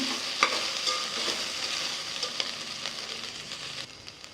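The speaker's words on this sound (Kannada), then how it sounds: "ಒಂದು 5 ನಿಮಿಷ ಎಣ್ಣೆಗೆ ಒಂಚೂರು ಹುರ್ಕೊಳ್ಳೋಣ" Sliced okra fries in hot oil in a pan for a Karnataka-style sambar and is stirred, giving a close, steady sizzle with scraping stir strokes and a sharp clack near the start, and no one speaks.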